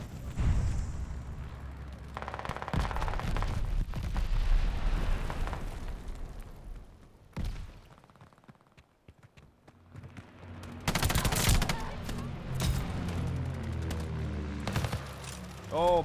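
Bursts of gunfire from a newly tried gun in a video game, loud and broken into separate volleys with short pauses, and a quieter stretch in the middle before another heavy burst.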